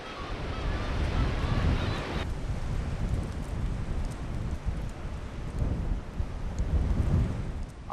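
Strong pre-dawn wind buffets across a dark fishing harbor while rough waves crash and roar, a loud, continuous low rumble with gusting surges rising and falling, no talk.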